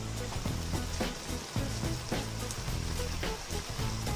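Washed cabbage hits a hot pan while making Filipino vegetable lumpia, giving a steady dense sizzle with crackling bursts and soft stirring clatter throughout, close and fairly loud.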